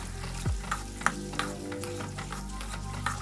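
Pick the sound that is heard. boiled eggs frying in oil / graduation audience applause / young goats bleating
boiled eggs frying in oil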